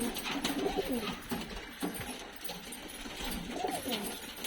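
Caged pigeons coo repeatedly in soft, rolling phrases, several birds overlapping close by against a steady background hiss, with no talking.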